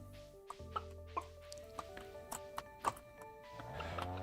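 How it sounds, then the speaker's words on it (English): Chickens in Stardew Valley Expanded give a quick run of short, clipped clucks at an irregular pace over a quiet game backdrop, faint and close. "Let's go see the chickens."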